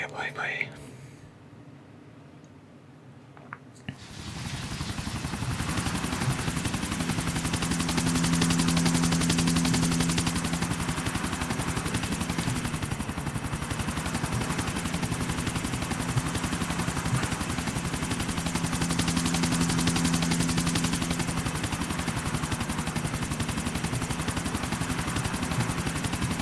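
Helicopter rotor drone with bursts of machine gun fire from GTA 4: The Ballad of Gay Tony, loud and continuous after a quiet start, with a steady engine hum throughout.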